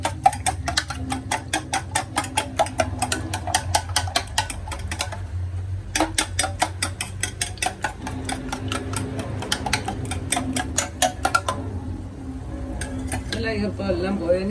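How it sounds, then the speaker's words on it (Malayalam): Four eggs with salt are beaten for an omelette, a whisk or fork striking the bowl in rapid, rhythmic clicking bursts broken by short pauses. "നാല് മുട്ട എടുത്തു, നന്നായിട്ടൊന്ന് ബീറ്റ് ചെയ്യാം."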